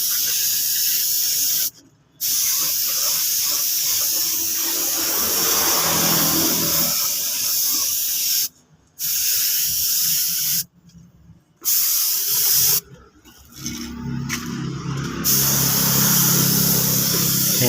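Loud hissing bursts from a spray gun painting a motorcycle, long sustained sprays broken by short pauses, close up.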